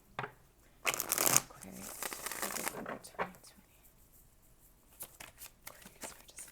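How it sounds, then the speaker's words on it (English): Tarot cards being shuffled by hand in loud crisp riffling bursts, with softer card handling and brief talk around them. "got one more shuffle"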